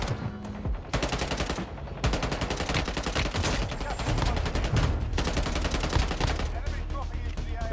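SMG fire in Warzone Mobile rattles in dense, rapid bursts with scarcely a pause, loud and up close, mixed with other gunfire from the match.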